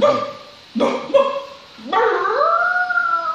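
A man imitates a howling dog with his voice: a few short yelping bursts followed by a long, rising, sustained howl, loud and close, with no other sound.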